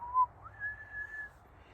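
A single person whistles a short tune, one sliding note rising into a long steady tone, imitating the wind in a children's story-time finger-play; quiet and close with no talk.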